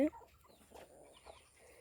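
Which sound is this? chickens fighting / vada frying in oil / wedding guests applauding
chickens fighting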